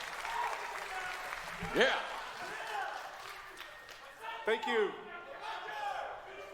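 An audience at a Marvel's Avengers game reveal applauds and cheers throughout, with a couple of louder whoops standing out, while a presenter speaks briefly over the crowd.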